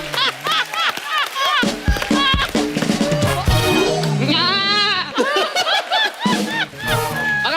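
A man imitates an angry goat bleating on a Hindi comedy talk show, giving wavering, quavering bleats with laughter and chatter from the studio audience and other performers around and between the calls.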